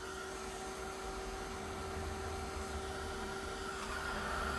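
A heat or drying tool blows a steady, even whoosh with a constant whine, close and alone, as it dries liquid patina paints.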